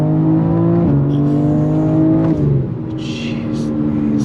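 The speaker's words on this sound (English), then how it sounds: "On throttle, here we go." A BMW M4 CSL sports car accelerating at full throttle on a road, its loud, close engine note climbing steadily, with two quick upshifts breaking the rising pitch and no talk over it.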